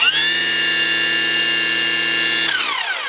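A Milwaukee M18 Fuel battery string trimmer runs on its low speed setting, giving a close, steady motor whine that drops in pitch as it winds down near the end.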